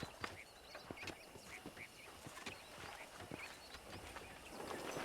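Horse hooves clip-clopping in Red Dead Redemption, faint irregular hoof thuds on the ground amid quiet outdoor ambience with bird and fowl calls.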